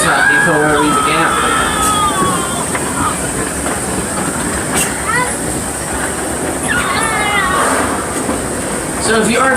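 Six Flags Over Texas amusement park train rolls along with a rumbling, rattling wheel noise and a high whine running throughout, while voices talk and chatter over it.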